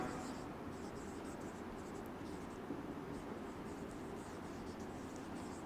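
Marker or chalk writing on a board during a class lecture on linear equations, heard as faint, continuous scratching strokes under a low background hiss.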